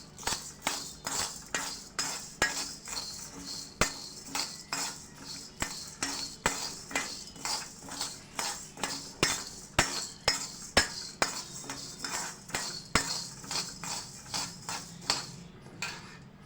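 Spices being dry-roasted in a pan on a low stove flame for guntur karam podi, with a spoon scraping and clinking against the pan in a steady rhythm of sharp metallic taps, close and fairly quiet, no voices.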